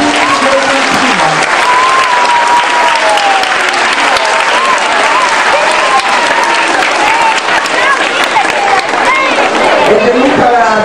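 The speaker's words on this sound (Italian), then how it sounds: "un applauso ai bambini di Argentina" Dense, loud audience applause for the children of Argentina at an outdoor mayor's welcome, continuous clapping from a large crowd with voices mixed in throughout.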